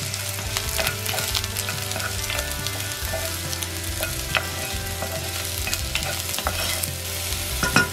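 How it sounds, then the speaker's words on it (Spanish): Mushrooms sizzle steadily in hot oil in a frying pan, a continuous crackling hiss with small pops and occasional stirring scrapes, close and fairly loud. "Tengo aquí ya un sartén caliente con aceite. Le voy a agregar 2 champiñones."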